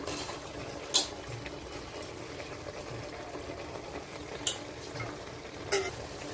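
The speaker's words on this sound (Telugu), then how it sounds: "ఇప్పుడు రైస్ కూడా వేసేస్తున్నాను." Cooked rice tipped into a pan of tomato masala with garam masala and stirred, a soft, steady background sizzle broken by three sharp scraping clinks of a spoon against the pan.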